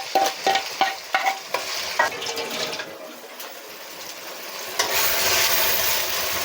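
Masala spices hit hot oil with softened onions in a pan for chicken curry. A few sharp scraping stirs come first, then a steady sizzle of frying swells and holds near and fairly loud, with no talk.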